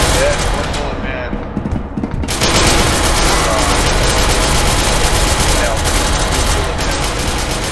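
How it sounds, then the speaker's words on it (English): Loud, dense gunfire rattles almost nonstop for several seconds in the SCP Secret Lab video game, rapid bursts blending into a continuous barrage while players' voices talk over it. "Shots fired, shots fired."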